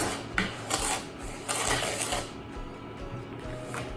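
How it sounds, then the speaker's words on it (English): Sugar being whisked in a bowl, a rapid rhythmic scraping and rasping of the whisk against the bowl in repeated bursts, close and moderately loud. "So I'm just gonna whisk that around."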